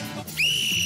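A loud, shrill whistle is blown once and held as a steady piercing tone, starting abruptly after a brief murmur of background noise.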